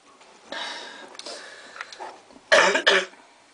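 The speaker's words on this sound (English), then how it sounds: "That's a cough, yeah." A few raspy, breathy coughs, a softer throaty series followed by two sharp, louder coughs close by, with quiet moments between.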